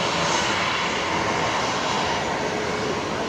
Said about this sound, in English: next arrival, Qantas Link 1966 coming in from Newcastle. It's an Embraer 190.